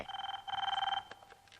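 A telephone rings quietly in a principal's office, giving a short, rapid trilling burst, pausing briefly, then trilling again before it stops, with faint room noise after.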